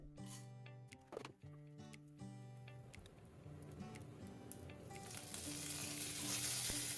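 Tempering spices begin crackling and sizzling in hot oil in a pan, the hiss growing steadily louder, over soft background music and a few clinks.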